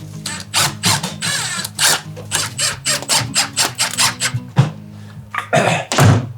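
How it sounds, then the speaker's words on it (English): Power drill pre-drilling holes for a door striker plate on a pre-hung door, loud and close in rapid repeated bursts of whirring and squealing that start and stop in quick succession. "I'm going to pre-drill it."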